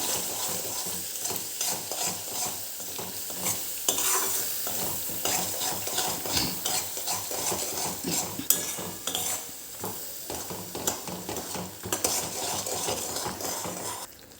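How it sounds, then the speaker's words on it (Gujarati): A jaggery and spice mixture for Kutchi dabeli is stirred in a pan as the jaggery melts: continuous scraping and soft sizzling, with light clinks of a spoon against the metal. "હવે આ બધું સરસ મિક્સ કરી લેવાનું છે ગોળ ઓગળે ત્યાં સુધી આપણે એને હલાવવાનું"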